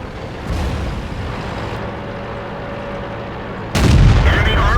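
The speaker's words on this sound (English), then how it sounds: "It is the tank shooting at me." Tank cannon fire in a TOG II tank video game: a steady low engine rumble broken by a sudden heavy, booming shot near the end.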